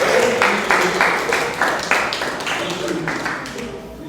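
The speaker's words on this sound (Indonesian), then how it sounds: "Oke, tepuk tangan semua." A school class bursts into a few short rounds of clapping, loud and close, each burst fading quickly, with a voice speaking between the bursts.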